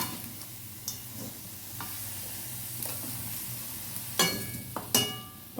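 Chicken curry being stirred in a pan, a low bubbling sizzle with occasional scrapes and two sharper utensil knocks near the end, close and fairly quiet.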